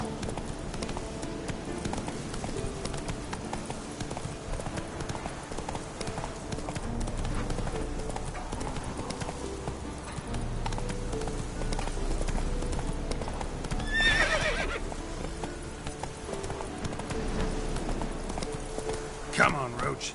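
Horse gallops with rapid clip-clop hoofbeats and an occasional whinny in The Witcher 3, over continuous game music and ambience at a moderate level.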